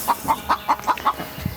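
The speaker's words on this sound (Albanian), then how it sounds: "si ti nxjerrën këto pula tashi" Hens on a farm cluck in a quick run of about six short, evenly spaced clucks, close and clear, followed by a softer scratchy sound.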